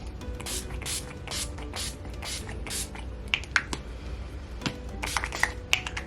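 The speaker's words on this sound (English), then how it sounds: "So I'm gonna use the setting spray." A bottle of makeup setting spray pumps out a series of quick misting bursts, about six close rhythmic sprays followed by fainter clicks and handling noises.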